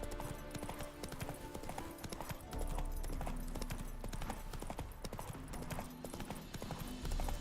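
Steady clip-clop of horse hooves at a trot beneath a dense Witcher 3 soundtrack, with a brief whinny mixed in; continuous and fairly loud throughout.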